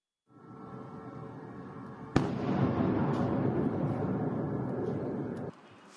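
Night explosions in Zaporizhzhia, Ukraine: a sudden sharp blast followed by a long loud rumbling roar, booming continuously before cutting off abruptly, no voices.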